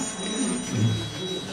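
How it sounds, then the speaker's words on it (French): A mobile phone rings during a lecture on Beethoven in a hall, a steady electronic tone heard faintly in a hushed room, with no one speaking over it. "Il y a le téléphone qui sonne."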